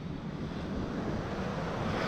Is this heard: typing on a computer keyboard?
no